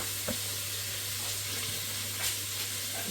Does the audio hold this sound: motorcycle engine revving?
no